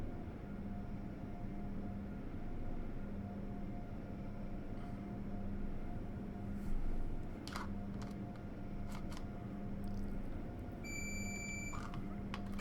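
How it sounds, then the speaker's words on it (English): Alerter buzzer in an Acela train cab in Train Sim World 3, faint repeated short tones pulsing over a low steady cab hum, with a brief cluster of brighter beeps near the end. "With that buzzer and that bar you see where it says alerter"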